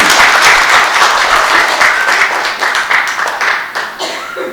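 Loud, dense applause from an audience at a Korean indoor gathering fills the room continuously, slowly thinning toward the end.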